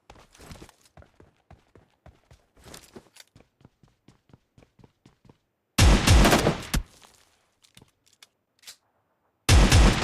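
Shotgun and G30 gunfire from the battle-royale game PUBG Lite, with two loud, close bursts of shots separated by quiet stretches of soft, rhythmic footsteps.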